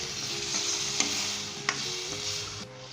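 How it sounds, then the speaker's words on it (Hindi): Baby potatoes fry in spices in a karahi, with a continuous sizzle and several sharp scraping stirs of a spoon against the pan, steady and close with no talk. "आलू को मसाले के अंदर ये भून लिए"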